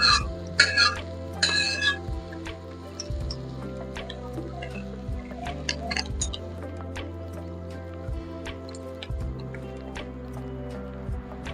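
Vegetable chowmein stirred and tossed in a pan, with soft scraping and clinking of utensil against the pan over a steady low cooking hum, close by and moderately loud, with a few sharper sizzles near the start.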